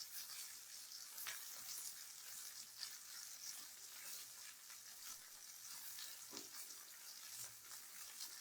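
Peppercorn-crusted steaks searing in a hot pan for steak au poivre, a steady, dense sizzle with faint crackles, continuous and close, with no talking.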